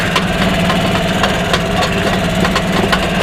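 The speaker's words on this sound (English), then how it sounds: "what is this, a golf cart ride through the fall colors?" A golf cart engine idles steadily and loudly up close, with a rhythmic low chugging and faint ticking.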